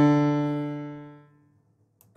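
A free sampled piano plugin note with a chorus effect and long pedal-like release rings alone, a single sustained harmonic tone slowly decaying over a second and a half before a brief noise at the end.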